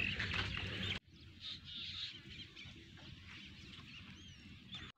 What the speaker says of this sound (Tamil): கோழி பாருங்க, நிறைய விதமான கோழி இருக்குது.